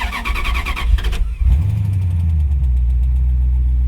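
A 1956 Dodge engine cranks with a fast rhythmic chatter for over a second, catches, then settles into a loud, steady low idle close by, with no talk.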